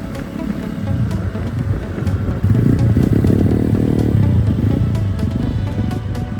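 Benelli Motobi 152 motorcycle (2020) riding past, its engine rumbling steadily and loud and close, swelling toward the middle before easing off, with no speech heard.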